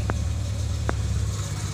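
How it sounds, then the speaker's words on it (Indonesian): A car engine idles steadily nearby while being tested with the battery disconnected, giving a low constant rumble with two brief clicks over it. "ini mobil sudah hidup ya, jadi mobil ini sudah hidup"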